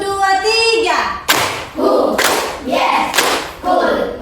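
Children clapping in rhythm during a counting clap game in a fifth-grade classroom, with sharp bursts of group claps under chanted voices and a teacher's speech.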